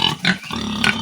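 Farm pigs raised for sale, in a pen with nipple drinkers, giving a quick run of close, low grunts and snorts, about three short bursts in one second.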